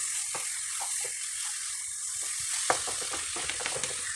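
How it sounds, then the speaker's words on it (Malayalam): Chicken stirred in a hot pan for Kerala-style kappa biriyani, a soft steady sizzle with scattered scraping and clinking stir sounds, louder near the end, without talk. "ചിക്കൻ ഇട്ട് നന്നായിട്ടൊന്ന് ഇളക്കി യോജിപ്പിച്ചതിന് ശേഷം അടച്ച് വെച്ച് വേവിക്കാം"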